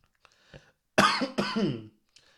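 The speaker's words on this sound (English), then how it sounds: "Excuse me, y'all, because I'm coughing" A pair of rough, nearby coughs from a person with a cold in quick succession, with faint clicks before and after.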